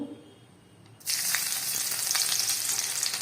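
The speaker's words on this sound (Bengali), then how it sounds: "রসুন ফোড়ন দেব" Garlic tempered in hot oil left over from frying chicken for dry chilli chicken, bursting into a loud, steady sizzle that starts abruptly and holds with crackling pops, no voices.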